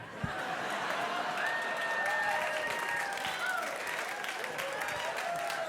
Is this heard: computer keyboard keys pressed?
no